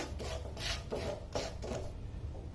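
Salt being dry-roasted in a pan is stirred with a spoon, making a soft, rhythmic gritty scraping that repeats several times close up, with no talking.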